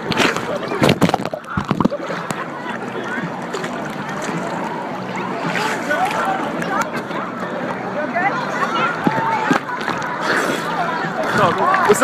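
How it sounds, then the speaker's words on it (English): Ocean waves at Virginia Beach splash and slosh around someone in the water, a continuous churning wash with sharper splashes, close by, while a person talks over it. "Waves are knocking my ass around."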